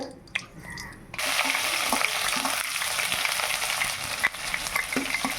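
Mustard seeds crackle and spit in hot oil while a Kerala-style raw mango, drumstick and dried prawn curry is being cooked, a dense steady sizzle with small sharp pops running throughout after a quieter start.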